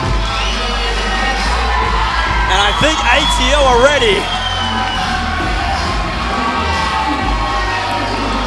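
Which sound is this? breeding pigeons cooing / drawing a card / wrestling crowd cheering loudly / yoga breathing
wrestling crowd cheering loudly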